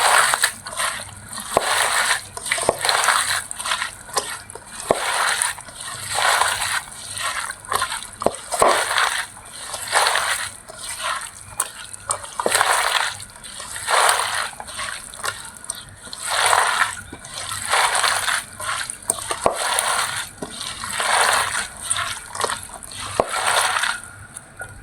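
Sliced potatoes are mixed with a couple of spoons of oil by hand for a Bengali potato chorchori, producing repeated close squelching, crunching swishes in an uneven rhythm that goes on for a long stretch.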